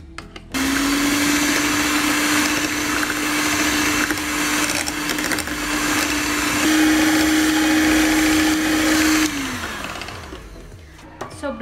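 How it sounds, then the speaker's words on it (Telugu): An electric blender whirs through a custard apple ice cream mixture, a loud steady motor hum running for about nine seconds before winding down, then quiet handling sounds. "బ్లెండింగ్ అయిపోయిందండి"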